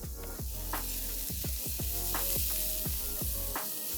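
Loud, constant sizzling of vegetables stir-frying on high flame, broken by regular scraping stir strokes every half second or so.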